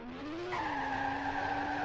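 A car in a 2D physics game spins its wheels from a standing start, producing a sustained, rising tire squeal layered over a droning engine tone, close and steady for nearly two seconds.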